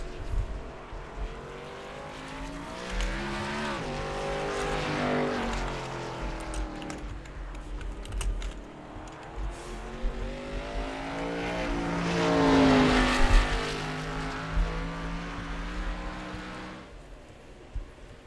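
Race car engines in a racing video game, braking hard on track, roaring close by with engine pitch swooping down and back up as the cars slow and accelerate again, without talk.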